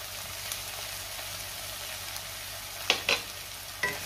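Fenugreek leaves with chopped coriander and salt being mixed in a pan, a soft, steady low sizzle with a few sharp scraping clicks of the spatula near the end, close but quiet.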